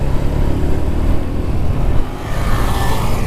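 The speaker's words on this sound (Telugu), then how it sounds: "ఎందుకురా నీది అంత రేస్ చేస్తుంటే చాలా ఎక్కువ సౌండ్ వస్తుంది తెలుసా మాకు" A motorbike engine drones on a road ride toward Vizag, a loud close rumble with slight swells in revs and wind noise throughout.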